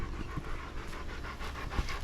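A dog, either a Labrador or a labradoodle, pants quickly and rhythmically outdoors in a Texas garden. The panting is soft and steady and carries on without a break.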